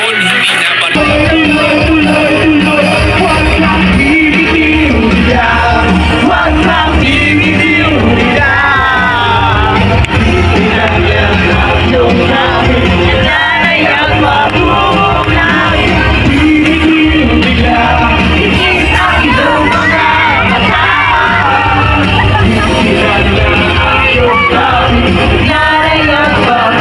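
A large crowd at an Iglesia ni Cristo rally calling for transparency, accountability and justice shouts and roars continuously, a loud, dense wall of yelling voices that lasts throughout.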